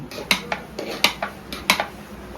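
A spatula cuts through cooked biryani in a metal cooking pot, giving about eight sharp scraping knocks against the pot in an uneven rhythm over a faint background hum; no voices.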